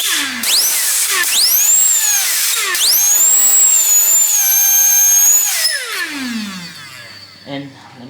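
Small 12 volt toy electric motor spinning up on a strip, a loud close high-pitched whine that rises sharply in several bursts, holds steady, then winds down with a falling tone.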